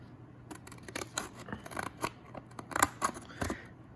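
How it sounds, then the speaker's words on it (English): Scissors snipping along printed black lines in folded paper to make an architecture pop-up, a string of crisp close cuts with short pauses between strokes, no talking. "I need to use my scissors and cut along these black lines."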